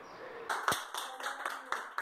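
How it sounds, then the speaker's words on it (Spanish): Applause at a hospital farewell: a handful of distinct claps ring out at a steady pace in a reverberant indoor space, moderately loud, with no one talking. "Estos aplausos fueron su despedida del hospital hace unos días."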